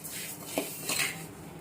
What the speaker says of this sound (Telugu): ఇదే కళాయిలో జీలకర్ర వేసి వేపాలండి.